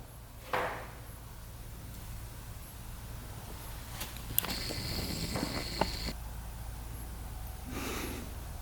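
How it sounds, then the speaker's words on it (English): Close, soft snuffling sniffs from a dog sniffing a dirt bike seat, a brief snort near the start and more near the end, over a steady hiss with faint clinks. "He's sniffing the seat a lot."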